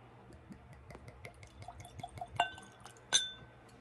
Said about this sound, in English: I'm going to pour a little dram